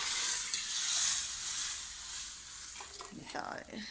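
Hot oil sizzles loudly in a pan while tempering dal, a steady crackling hiss that gradually softens, with a short burst of talk near the end.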